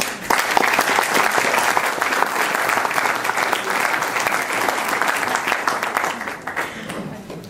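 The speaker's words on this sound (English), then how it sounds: "give him a nice round of applause" An audience gives a dense, sustained round of applause at a poetry book launch as the speaker comes up, steady and loud before thinning out at the close.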